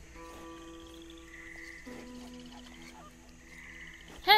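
Frog croaking in Red Dead Redemption 2, a run of croaks and trills over a soft ambient bed, ending with a louder burst.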